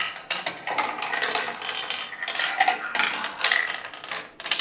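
A marble rolls down a winding handmade wooden track, giving a steady stream of close, rapid clicking and rattling as it rolls, taps and drops through turns, with no voices.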